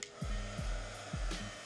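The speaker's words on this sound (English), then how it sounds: "I recommend using a heat gun." A heat gun blows hot air in a steady, close, loud whoosh while being used on a pair of Yeezy 350 sneakers, with a motor hum that repeatedly dips and rises.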